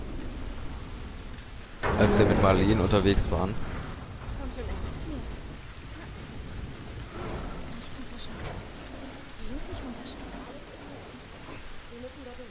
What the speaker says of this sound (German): Da hinten ist das Gewitter, was sich ja schon angebahnt hat